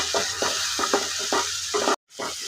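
Chopped mint and coriander leaves are sautéed in a pan for a chicken dum biryani in a rice cooker, a close, constant sizzle with about five rhythmic stirring scrapes and a momentary cutout near the end.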